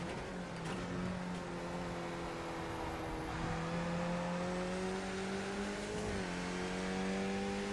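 A race car in the iRacing sim at Interlagos drones steadily with layered engine tones that dip and shift in pitch as it slows for braking, faint and continuous with no talking.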